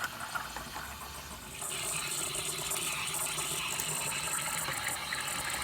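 A Delonghi espresso machine's steam wand steams milk in a small pitcher, giving a steady close hiss and rushing gurgle that swells louder after a brief softer start and holds continuously.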